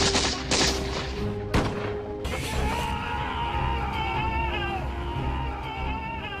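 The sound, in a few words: musket gunfire in battle sound effect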